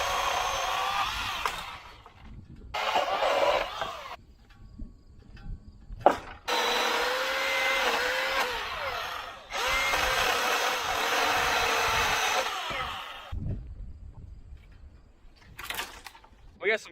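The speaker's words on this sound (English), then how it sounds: "I got a chainsaw, so I'm gonna use that." A chainsaw cuts through an old dead branch outdoors near a fence during a concrete pad job, running in several loud sustained bursts separated by short pauses and idle gaps.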